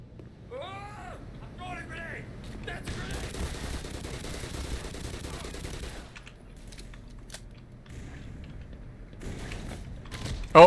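Gunfire in the Black Mesa video game, a dense rattling burst of shots through the middle of the clip over game sounds, with a voice speaking briefly at the start and a sharp loud hit at the end.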